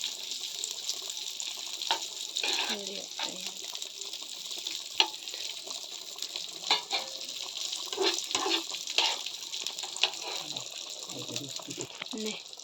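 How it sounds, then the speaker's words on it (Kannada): Cashews and raisins frying in a pan in a home kitchen, giving a steady, close sizzling hiss with small pops and occasional clinks throughout. "ಮೂಲು ಕಾಜು ದ್ರಾಕ್ಷಿ ಫ್ರೈ ಅವನುಂಡು"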